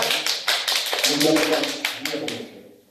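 Studio audience applauding on a Russian singing show as a performer is welcomed, a dense wash of clapping that swells and holds, then fades out near the end.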